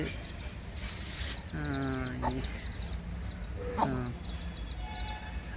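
Several chicken chicks clucking nearby, with short stacked calls around the two- and four-second marks over a steady outdoor background hum.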